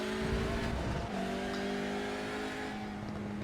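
Hyundai Elantra N TCR engine in iRacing at Mosport runs under heavy load, a loud sustained drone with a brief dip as the pitch shifts before settling into a steady high note, with no talking.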